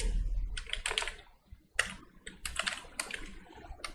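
Typing on a computer keyboard, heard as close, bursty runs of quick key clicks separated by short pauses, with no voices.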